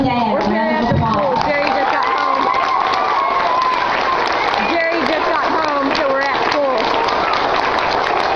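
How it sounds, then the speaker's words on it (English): High school audience clapping and cheering for a soldier father during a surprise visit to his daughters, with voices and excited chatter mixed in over the steady applause throughout. "Let's all stand up and give Cody's dad a round of applause"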